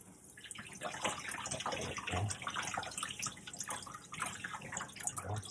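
Tap water running and splashing over a salmon fillet being rinsed for sous vide, a close, steady gurgling stream with small drips and handling noises, no talking.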